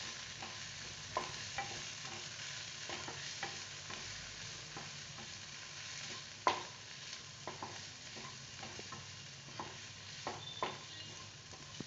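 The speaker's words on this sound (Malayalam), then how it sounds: "ഇതിൻ്റെ പച്ചമണം മാറുന്നത് വരെ നന്നായി ഒന്ന് ഇളക്കി കൊടുക്കുക." Garam masala and coriander powder mixture stirred in a frying pan for bread masala, a steady soft sizzle under repeated scraping clicks of the spoon, close and alone with no voices.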